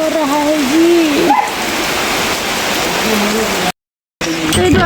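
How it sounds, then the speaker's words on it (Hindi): Heavy monsoon rain pours down in a steady, dense hiss. Someone talks over it at first, the sound cuts out briefly, and then the rain and the voice return. "पानी बहुत पड़ रहा है जी"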